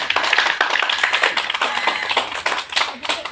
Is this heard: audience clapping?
yes